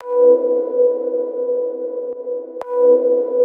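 A sampler playing sliced chord-loop fragments as a new melody, steady sustained tones holding through with a sharp click near the end before the sound resumes, no voices.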